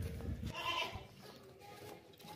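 A goat, a stocky male offered for sale as a sacrificial animal, gives a short bleat close by against a noisy background.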